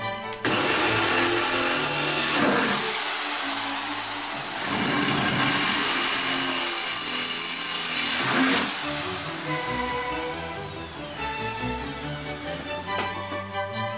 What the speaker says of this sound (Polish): I wiercimy otwory pod nowy klosz.